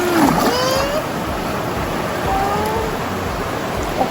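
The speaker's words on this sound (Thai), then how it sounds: "น้ำไหลเชี่ยวมากป๊าด ตัวตรงนั้นเกือบท่วมเลยท่วมสะพานเลย" Steady broadband rush of fast-moving floodwater nearly flooding over a bridge fills the clip continuously, with faint tonal whistles drifting over it.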